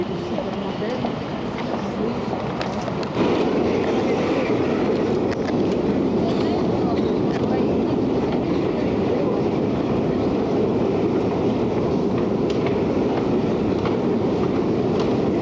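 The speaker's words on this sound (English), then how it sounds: "This is the subway, and we're just about to end." Subway train in the Soviet Union in 1991 running steadily with a loud, continuous rumble and rattle of carriages throughout, voices talking faintly over the noise.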